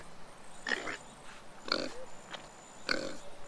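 Cartoonish pig oinks from the video game Adorable Adventures, three short separate squeals spaced about a second apart, moderately loud over quiet background.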